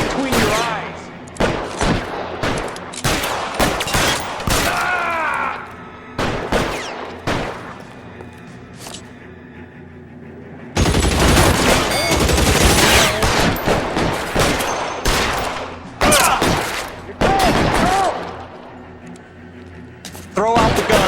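Repeated gunshots in L.A. Noire, loud sharp cracks fired in quick volleys throughout, with a heavier sustained burst midway and speech mixed in among the shots.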